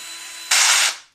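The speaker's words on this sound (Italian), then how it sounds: "se vado al massimo della 1 e voglio cambiare velocità, si sentirà sicuramente un brutto rumore meccanico" A Bosch EasyDrill 1200 cordless drill driver runs with a thin whine, then gives a loud harsh mechanical grinding burst when its speed selector is forced into another gear, before winding down to silence.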